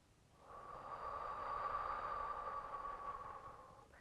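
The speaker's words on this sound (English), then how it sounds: "exhale out through the mouth" A person slowly exhales through the mouth during a seated calf-stretching routine, a soft steady breathy rush that swells and fades over a few seconds, close and quiet with no talking.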